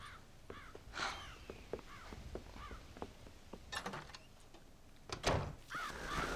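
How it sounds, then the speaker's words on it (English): Crows eating corn from a silo in the video game Red Dead Redemption: scattered caws and rustling calls come at various distances over a quiet outdoor ambience, with no talking. "The goddamn crows are taking all the corn."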